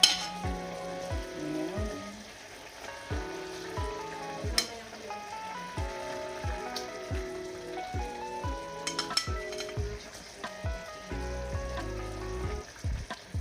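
Pork steak pieces sizzling with mushrooms in a hot pan, a steady frying hiss broken by regular clinks of a utensil stirring against the pan, with a brief spoken word.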